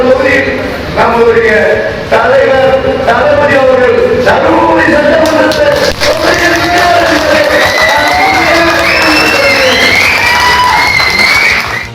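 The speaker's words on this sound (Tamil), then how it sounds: "அப்போது அங்கு கூடியிருந்த தமிழக வெற்றி கழக தொண்டர்கள் ஆரவாரம் செய்தாங்க" Loud crowd of Tamilaga Vettri Kazhagam party supporters cheering and shouting at a political gathering, a dense continuous roar of voices with rising whoops and calls throughout.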